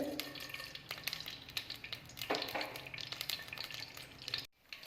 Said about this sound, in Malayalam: കടുക് പൊട്ടി വരുമ്പോൾ ഇതിലോട്ടേക്ക് ഒരു കുറച്ച് ചെറിയ ജീരകം ചേർത്ത് കൊടുക്കുന്നുണ്ട്